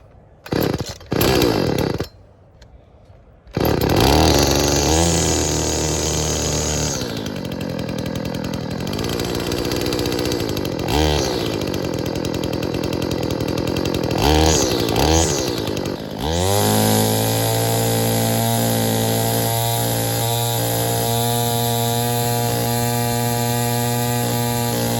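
Small 2-stroke petrol engine on an RC boat build, sputtering through a few pull starts before catching and revving into a loud, buzzy, high-pitched whine, then settling into a steady fast idle close by.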